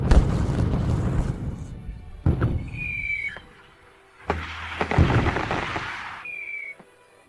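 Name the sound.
fireworks exploding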